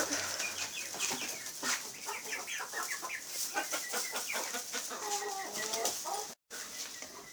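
Brahma bantam and Pekin hens cluck and murmur in a backyard poultry run, a steady chorus of short, overlapping calls with a few louder squawks over constant outdoor background noise.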